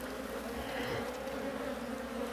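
Dense, steady hum of many honey bees buzzing at an open beehive during a winter hive inspection, a continuous close drone with no talking.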